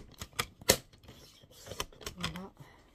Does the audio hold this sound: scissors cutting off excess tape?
yes